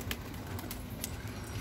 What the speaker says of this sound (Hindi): ये देखो हमारे कबूतर